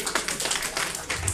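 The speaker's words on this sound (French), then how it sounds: "Sous vos applaudissements," A small audience claps for Frimousse, a performing trick dog, in a short, quiet burst of rhythmic hand claps from a few people.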